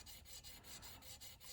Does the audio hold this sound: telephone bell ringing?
no